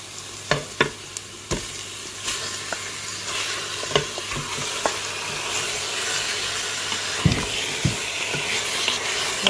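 Sliced meat and minced onion sizzle loudly in hot oil in a pan, a constant close-up frying hiss punctuated by scrapes and knocks of stirring.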